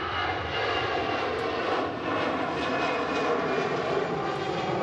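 An Air France airliner rolls for takeoff, bound for Paris, with a loud, steady engine roar that fills the whole moment without breaks.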